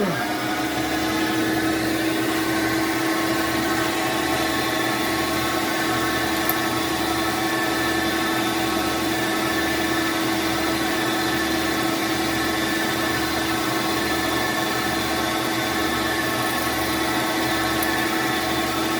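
A JET BD-920W metal lathe running steadily after being switched on, with a constant motor hum and a regular low rhythmic pulse throughout, close and free of talk.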